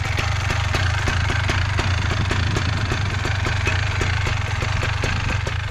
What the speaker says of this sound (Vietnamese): Đây, nó chính là cái động cơ đây. Động cơ này là động cơ hai kỳ nhá.